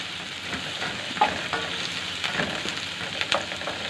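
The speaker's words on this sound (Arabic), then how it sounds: "احنا بنفضل نقلب في البصله كده لحد ما تدبل معانا اهي" Onion is stirred in a pan for an eggplant salad, giving a steady sizzle with scraping stir strokes and light clinks close up.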